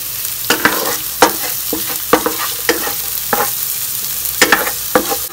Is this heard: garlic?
yes